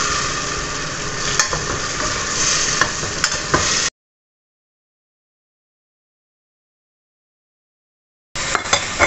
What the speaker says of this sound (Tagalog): Haluin ko lang siya para manuot yung kanyang lasa.